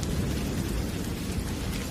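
A dense, roaring storm of heavy rain with deep rumbling thunder fills the space with a steady, unbroken wash of noise and no voices.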